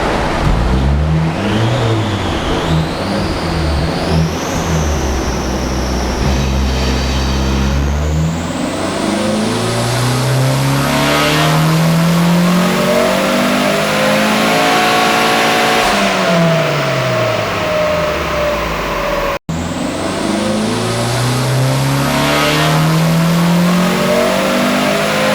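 A turbocharged Mazda Miata on a dyno, running at 10 PSI of boost. The engine revs loud and close, climbs through the gears with rising and falling pitch sweeps, and breaks off abruptly near the end before revving again.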